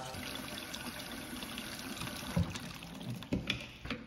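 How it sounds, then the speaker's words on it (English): Hot water sprays and splashes over an indoor evaporator coil during cleaning, a continuous close hiss of running water with a few louder splashes near the end. "I like just hitting it up with some nice hot water."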